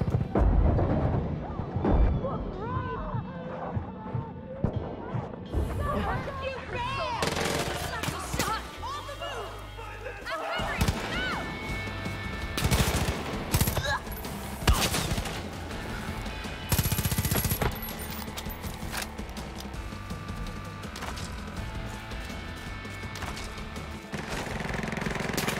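Gunfire in the Far Cry 5 video game, with machine-gun bursts and scattered single shots crackling steadily over a dense game soundtrack for the whole stretch, while a player talks now and then.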